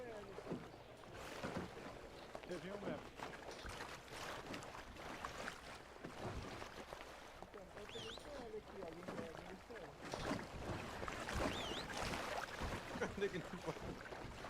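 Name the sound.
boat driving on water in GTA V FiveM video game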